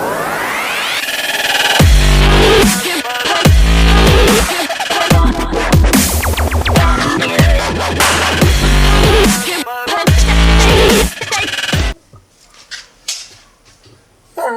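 Music from the stock factory stereo in a 2018 Ford F-150 pickup, loud and full inside the cab with strong bass hits and a steady beat, cutting off near the end to quiet cabin sounds.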